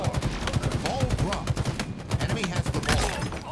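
Rapid automatic gunfire from a Halo Infinite match, dense bursts of loud shots with crackling impacts that run almost without pause, mixed with game sounds and a faint voice.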